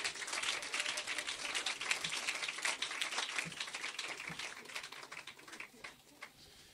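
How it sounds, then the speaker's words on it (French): An audience at a bilingual French and English church service claps for the translator, a brisk crackle of many hands that stays loud, then gradually thins and fades toward the end. "On donne une meilleure acclamation pour le traducteur."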